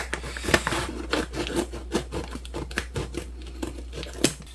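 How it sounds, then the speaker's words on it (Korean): Repeated sharp snips and crinkly scratching as scissors cut through the coarse stitching of a 10 kg rice sack, close by, with rustling between cuts and no talking. "쌀푸대에 실밥 뜯는 것도 오랜만에 뜯으니까"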